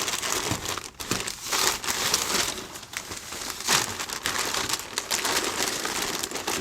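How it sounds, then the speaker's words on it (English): Butcher paper being tucked in on both sides around a cut of meat, giving steady close crinkling and rustling for several seconds with brief crackly peaks and no talk. "we're going to tuck the paper in on both sides"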